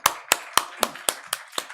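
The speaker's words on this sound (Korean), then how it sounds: "우리 박수 한번 할까요?" A church congregation at a weekday service claps in unison, eight sharp, evenly spaced beats at a steady rhythm, clear and close with no talking over them.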